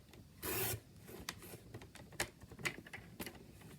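Quilt fabric pieces for a disappearing nine patch block are cut into 1.5-inch strips with quiet, rasping cutter strokes and light rubs. One longer scrape is followed by scattered short taps and scrapes, with no voices.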